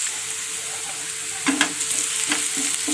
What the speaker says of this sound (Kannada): ಕಡಲೆ ಮೆಣಸಿನಕಾಯಿ ಮೆಣಸಿನ್ಕಾಯಿ ಎತ್ಕೊಂಡಿರೋ ಈರುಳ್ಳಿ ಇವನ್ನೆಲ್ಲ ಸ್ವಲ್ಪ ಚೆನ್ನಾಗಿ ಫ್ರೈ ಮಾಡ್ಕೋಬೇಕು